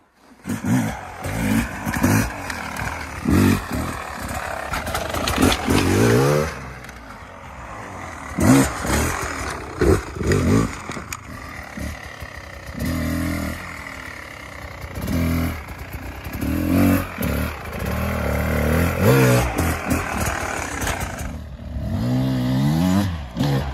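A dirt bike engine revs hard while riding a hard enduro trail, rising and falling in repeated bursts of loud, rasping acceleration, with clattering from the bike over rough ground.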